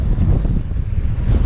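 Strong wind on a remote Scottish island buffets the microphone with a constant loud low roar and rumble, unbroken and close, with no voices.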